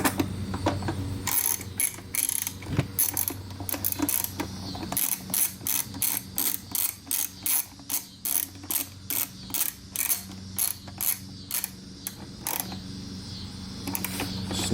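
Ratchet clicks as carburetor bolts on a Yamaha Virago motorcycle are tightened, coming in quick close bursts of sharp pawl ticks with short pauses between strokes, over a low background hum.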